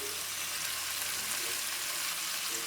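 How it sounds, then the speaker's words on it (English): Ground meat browning in a hot pan for ragu bolognese, a steady, dense sizzle that holds even and close throughout, with no voices over it. "the meat is browning"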